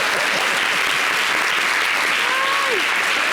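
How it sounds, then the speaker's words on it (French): Studio audience applause on a French-language television talk show, a steady dense wash of clapping filling the whole moment at full strength, with a few faint voices calling out over it. "Applaudissez pour moi."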